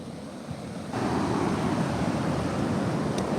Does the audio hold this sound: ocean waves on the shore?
yes